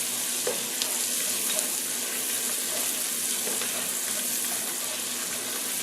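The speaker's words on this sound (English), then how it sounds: "I'm just putting onions in the pan" Onions sizzle in a pan, a steady, dense hiss of frying that fills the whole stretch, close and even, with faint small pops and no voices.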